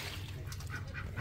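Ducks honking and quacking close by at a farm, a brief dense burst of calls over low background noise.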